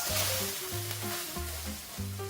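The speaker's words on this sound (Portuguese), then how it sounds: "colocar o nosso alho para dourar juntamente com o arroz arbóreo" Garlic and arborio rice sizzling in hot oil in a pan for risotto, a close, steady crackle with faint scraping stirs and tonal clinks underneath.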